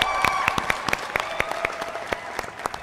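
A studio audience at a televised singing talent show claps in unison, sharp rhythmic claps about four to five per second, steady and moderately loud throughout.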